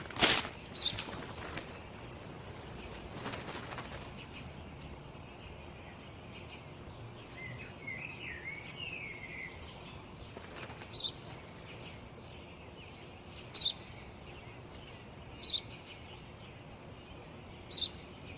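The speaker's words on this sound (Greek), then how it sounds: "Ένα σπουργίτη." Short, high chirps of a sparrow repeat sporadically over a quiet background hiss, with a few louder rustling bursts near the start.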